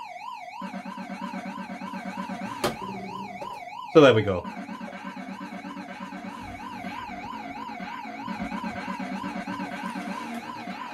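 A police siren sound effect plays from a device, its wailing tone rising and falling steadily and loud throughout, with a brief burst of other effect noise partway through and someone speaking over it near the end.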